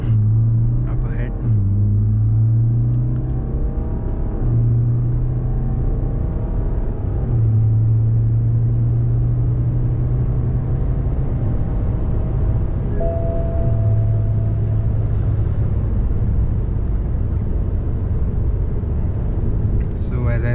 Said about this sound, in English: let it rev till 2000 rpm, and then we are launching up ahead